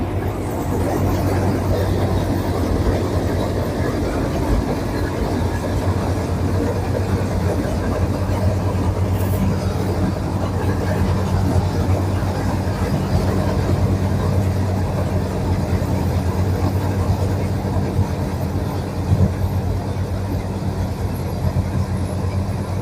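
A Kartar combine harvester runs in a soybean field, its engine giving a loud, steady drone and rumble throughout with a low mechanical hum, continuous and close, with no voices.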